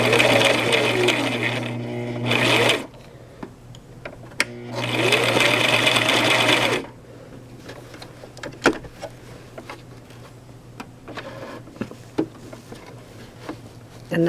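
A Brother LX 3817 sewing machine stitches through a thick vest placket area in two loud, steady bursts, then runs quieter with scattered clicks and handling noises close by.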